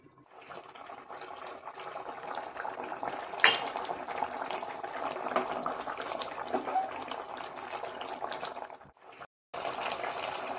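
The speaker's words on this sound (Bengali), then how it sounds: "ঢাকা দিয়ে দিচ্ছি, একটু ফুটবে।" A covered pan of fish curry with ridge gourd simmers steadily on a gas stove, a continuous close bubbling and hissing that cuts out briefly near the end before resuming.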